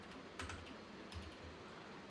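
Typing on a computer keyboard while entering an AWS IAM policy name, a few quick clusters of faint key clicks close by over steady low room noise, no talking.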